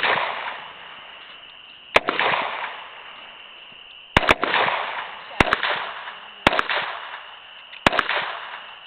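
Sharp single gunshots fired at a shooting target outdoors, six or so loud cracks spaced a second or two apart, each trailing into a hissy wind-like background.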